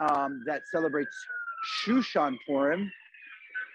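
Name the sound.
ambulance siren passing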